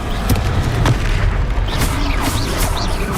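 In Hogwarts Legacy, a Confringo blasting spell explodes with heavy booms that repeat several times close by, loud, dense and rumbling, amid a noisy battle.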